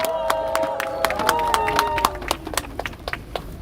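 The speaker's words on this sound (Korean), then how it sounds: "박수로 맞아주세요." Audience applause greets a parents' group leader invited up at a Korean rally, a dense run of claps with tonal ringing and murmur running beneath, thinning toward the end.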